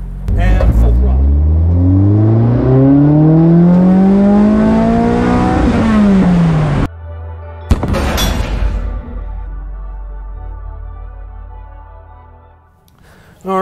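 A Toyota 2AR-FE powered car accelerates at full throttle in second gear from nearly stopped, the engine note climbing loudly in pitch before a sharp cut, then wind roar and a lower drone as it settles.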